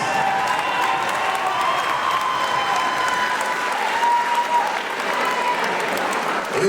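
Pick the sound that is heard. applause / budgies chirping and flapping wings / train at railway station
applause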